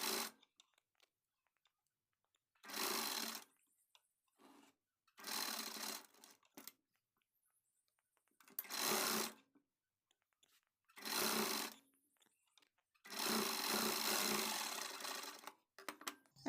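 A sewing machine stitching a sleeve lining, running in short close bursts of rapid mechanical chatter separated by silent pauses, six or so runs with the last one longest.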